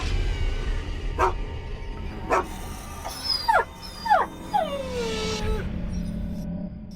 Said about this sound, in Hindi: तभी झाड़ियों में से एक कुत्ता बाहर आता है।